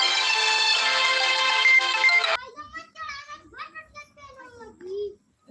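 A phone ringtone plays loudly with a steady melodic tone for a couple of seconds, then cuts off abruptly as a voice starts talking.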